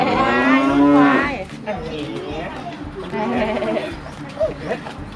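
Buffalo on a farm giving a loud, drawn-out low moo near the start, followed by quieter farmyard sounds with people talking nearby.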